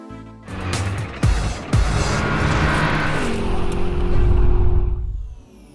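Lada Priora car on a test drive, its engine revving up hard through several gear changes, loud and close, with the roar swelling and then fading at the end.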